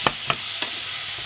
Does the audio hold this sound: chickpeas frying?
yes